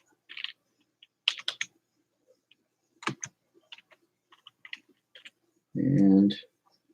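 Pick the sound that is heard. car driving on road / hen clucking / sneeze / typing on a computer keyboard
typing on a computer keyboard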